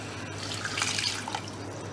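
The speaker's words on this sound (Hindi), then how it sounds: "तो आलू भी डाल के इसमें हमने पानी शामिल करना है 1/2 कप" Half a cup of water poured into a cooking pot of potatoes for a moong dal mangochi curry: a short, close, soft splashing pour over a faint steady background.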